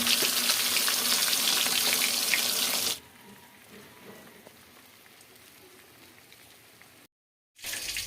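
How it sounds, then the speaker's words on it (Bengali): Tilapia fish frying in spiced oil, a loud bright hissing sizzle for about three seconds that drops to a quieter crackle, with a brief silent cut near the end. "ফ্রাই করবো এটা"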